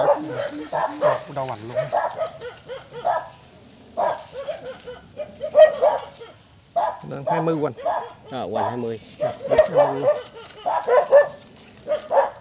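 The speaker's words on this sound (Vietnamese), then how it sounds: "Gặp mình chó là mình sủa quá trời luôn." A dog barks repeatedly at a plant nursery selling Tet apricot-blossom trees near Can Tho, its barks mixed in with loud, steady conversation between people close by.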